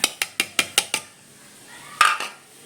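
Onions chopped small for a chilli chutney are tipped into a grinding mortar, giving six quick, evenly spaced clinking knocks followed by a louder clatter and a softer knock after a short pause, close and with no talking.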